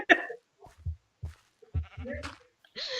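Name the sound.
sheep bleating in the video game Minecraft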